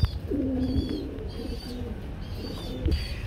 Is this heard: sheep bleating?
no